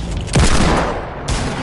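Video game gunfire: two loud, close blasts a little under a second apart, each with a booming tail.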